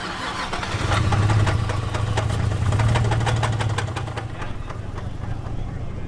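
A worn Nissan 350Z with 250,000 miles, blown up after track racing, cranks and fires into a rough, knocking idle, with a steady low engine drone throughout and faint background noise.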